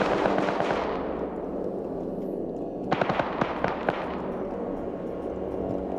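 Gunfire and explosions in a military video game, a dense rumbling barrage followed by a burst of sharp, closely spaced shots, then continuing distant firing.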